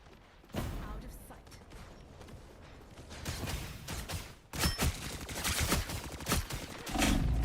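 Gunfire in the video game Marvel Rivals comes as bursts of rapid shots and impacts in a busy, clattering battle mix. It grows louder and denser toward the end.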